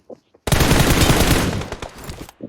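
Gunfire in the video game PUBG Mobile: a loud, close burst of rapid automatic shots lasting about two seconds, followed by a few scattered trailing cracks.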